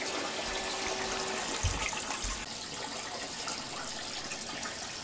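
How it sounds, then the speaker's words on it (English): Garden hose running water on full, a steady broad rush of flowing water that stays even and fairly loud throughout, with a few low thumps early on and no talking. "turn the hose on full"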